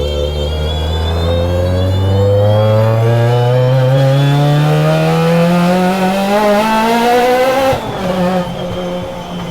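A supercharged car engine revs hard and loud up close, its droning pitch climbing steadily for several seconds, then dipping briefly and settling at a lower rumble with a supercharger whine layered over it.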